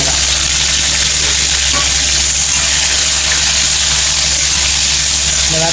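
Onion, tomato and green chili sautéing in a pan after mustard seeds have popped, for a village-style fish curry, heard as a loud, continuous, dense sizzle and hiss with no distinct strokes or voices.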